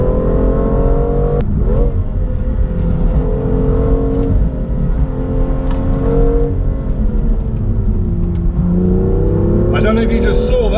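A 2017 BMW M2 engine drones loud and close from inside the car, its tone holding and shifting as it pulls under load, with a brief higher burst near the end.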